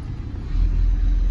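A 1990 Monaco Crown Royale motorhome pulling forward, a deep low engine rumble that swells and holds steady, close and fairly loud; no talking.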